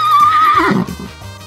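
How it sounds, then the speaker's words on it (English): A farm horse lets out one loud, close neigh that drops in pitch and fades, heard alone. "horse,"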